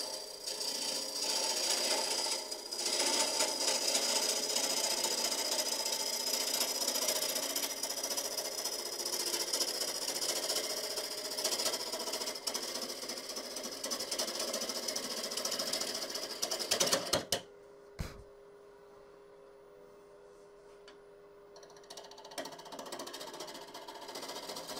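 A cherry burl bowl spins on a wood lathe while a gouge takes finishing passes, producing a loud, steady whirring cut for most of the span before the tool lifts off and only a quieter motor hum remains.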